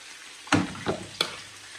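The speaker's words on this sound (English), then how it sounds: "Just adding my rice, making sure I don't add the babies." Rice tipped into a small hot pan while cooking coconut rice, giving two or three quick bursts of sizzling and frying crackle, close and fairly quiet.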